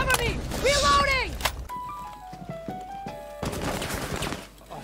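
Gunfire in the video game Rainbow Six Siege, bursts of rapid automatic shots in close, dense clusters at the start and again near the end, mixed with other game sounds and a player's voice.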